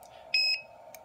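Guardian Avionics Aero 553 aviation CO detector giving its self-check reset signal: two short, bright electronic beeps close together, then a brief faint click, over a low steady hum.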